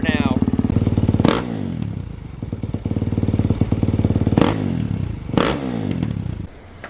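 A 2021 Kawasaki KX450X dirt bike fitted with an FMF 4.1 RCT exhaust fires up and runs nearby, a loud thumping idle broken by three sharp revs, with some clatter and handling noise.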